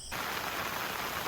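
Steady rain pours down near a garage with overflowing gutters, a dense even hiss filling the whole short stretch with no voices.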